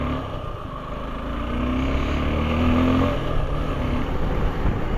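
Motorcycles, a Suzuki Gixxer and a Yamaha MT, setting off up the Bisle Ghat mountain road, a steady engine drone that swells as the revs rise, heard from close behind without talk.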